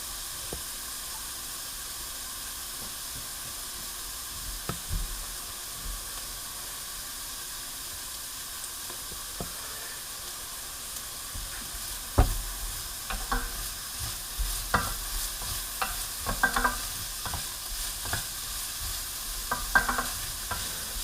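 Wedding soup ingredients sizzle quietly in a pot, a soft steady hiss broken by scattered clicks and scrapes of stirring, growing busier toward the end, with no talking.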